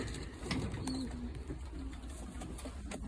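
Pigeons cooing inside a pigeon loft holding this year's young pigeons, soft low repeated coos at moderate distance over a constant background rumble, with faint rustling and no talking.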